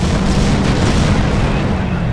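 Bombing run explosions in Company of Heroes, a loud, dense rumble of booms and blasts running continuously through a short burst of wartime combat.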